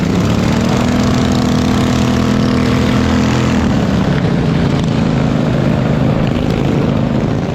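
Racing lawn mowers roar loudly at a county fair, their engines giving a dense, continuous buzzing drone that shifts pitch as they pass, with no talking over the noise.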